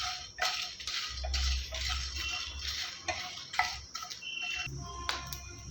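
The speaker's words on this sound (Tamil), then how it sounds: "இப்போ பாருங்கள் நல்லா படபடன்னு பொரிஞ்சு நல்லா வறுபட்டுருச்சு" Dry red chillies and spices roast in a pan for a soya chunks pepper fry, with sharp intermittent crackles and pops and light scraping of a spatula, heard close and fairly quiet.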